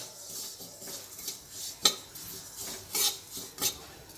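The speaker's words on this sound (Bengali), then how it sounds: "গ্যাসের ফ্লেমটা মিডিয়ামে রেখে আমি তিলটা হালকা লাল লাল করে ভেজে" Sesame seeds dry frying in a pan over a medium gas flame, giving a soft steady rustle and scrape under faint sizzling, with several sharper clinks of a utensil against the pan.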